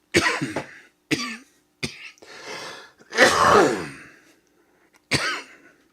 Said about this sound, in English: It's a cough, not an earthquake.